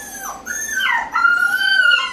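Seven-week-old puppies whine and yelp in high, wavering cries, several overlapping close by with a short pause midway before rising again.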